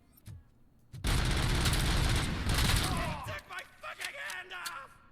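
Sustained full-auto gunfire in the Robocop: Rogue City video game, a loud dense burst of rapid shots lasting a couple of seconds, then trailing into scattered fainter shots and rumble with no voices over it.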